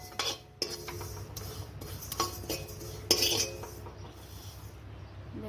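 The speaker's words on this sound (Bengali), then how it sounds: "তিল ভাজা আমার হয়ে গেছে প্রায়" Sesame seeds roasting in a pan are stirred with a metal utensil, giving repeated scraping strokes and light clinks against the pan, close up and fairly quiet.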